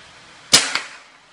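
A sharp shot from a Hatsan AT44-10 air rifle cracks once, followed a moment later by a faint metallic tick from an energy drink can 35 metres away.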